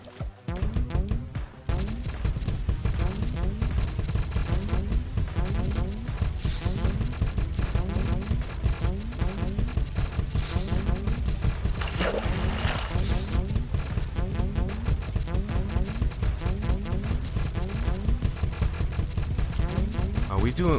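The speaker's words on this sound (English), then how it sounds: "I think we're gonna fight missiles with missiles" Missiles fire continuously in the side-scrolling shooter Cally's Caves 3, a dense relentless barrage of rapid blasts and booms packed over a steady bed of game noise for the whole stretch.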